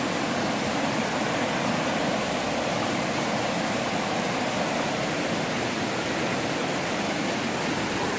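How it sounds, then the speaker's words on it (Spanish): A swollen, muddy river in flood rushes past as a steady, broad wash of water noise, moderately distant and unbroken, with no voices. "el río crecer con una repunta como esta"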